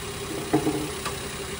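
A Toyota Wigo engine idling quietly, a low steady hum with a couple of soft knocks near the middle, close and even, no one speaking.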